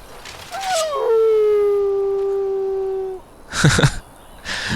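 A dog in the fantasy role-playing game Dragon Age: Origins lets out one long, drawn-out howl that holds steady for about two seconds, followed by brief rustling.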